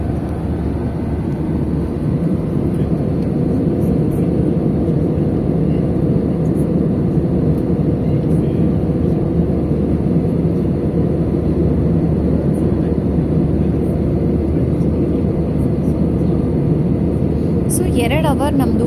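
A steady, loud airplane engine drone fills the whole stretch, an unbroken low hum like inside a cabin, with occasional faint voices.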